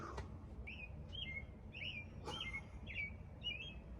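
Faint robin chirping in a series of short, high warbling calls repeated every half second or so, set against soft low background noise.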